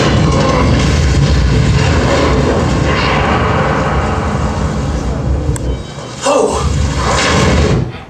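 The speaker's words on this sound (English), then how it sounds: "we're going to put this all together now and watch a clip from the movie Armageddon" A scene from the film Armageddon plays in stereo: dense, continuous rumbling explosions and heavy crashing booms at high volume, with a brief dip near six seconds before the roar surges back.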